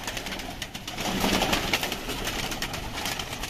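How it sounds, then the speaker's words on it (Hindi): Pigeons cooing steadily in a breeder's setup among a noisy, crowded background, with overlapping soft coos and rustling throughout. "बड़ा कबूतर रखा हुआ"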